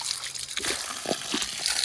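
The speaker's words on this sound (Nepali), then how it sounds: "हिमालको फेदमुनिबाट आएको पानी हो क्या, लास्टै जाडो चिसो छ क्या पानी चाहिँ" Cold spring water from a source in the Himalayan foothills of Humla flows and splashes steadily, close and fairly loud, with a few brief louder sloshes and no talk.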